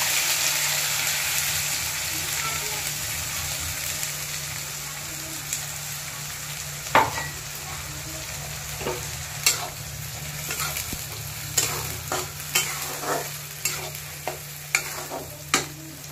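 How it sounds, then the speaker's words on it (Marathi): Onion and coconut paste fries in a hot pan, with a steady soft sizzle that turns busier as a spatula scrapes and stirs, making sharp clicks and knocks in irregular bursts. "मस्त परतून घ्यायचं आहे।"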